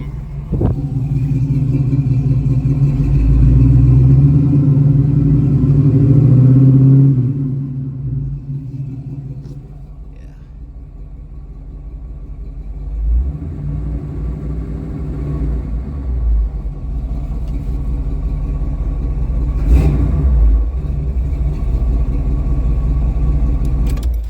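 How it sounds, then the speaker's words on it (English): A 1969 Buick Special Deluxe engine rumbles steadily at idle with a deep, droning vibration from a bent driveshaft, swelling louder early on before settling into a lower, continuous hum. "You guys saw that drive shaft was vibrating."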